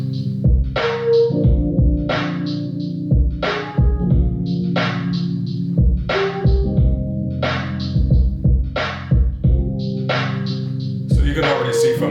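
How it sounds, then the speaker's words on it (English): A drum loop plays together with a pitched-down sample, punchy steady beats repeating under a low sustained tonal layer, loud and upfront for about twelve seconds. "the loop and a sample both sounds like this together"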